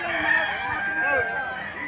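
Chickens at a livestock auction market in Padre Garcia, Batangas, a rooster's crow ringing out with faint clucks amid the bustle of the crowd.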